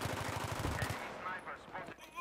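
Rapid gunfire bursts from a Battlefield 3 multiplayer match, a quick string of sharp repeated shots in the first second followed by fainter scattered game sounds, fairly quiet overall with no talk.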